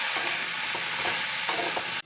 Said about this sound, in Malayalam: കടച്ചക്കയിട്ട് ഒന്ന് വഴറ്റിയെടുക്കാം